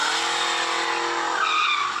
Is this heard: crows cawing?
no